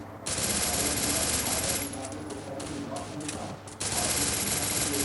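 Rapid bursts of automatic gunfire from the Free Fire battle game, a dense, continuous rattle of shots with a brief dip near the end before firing resumes, loud and close.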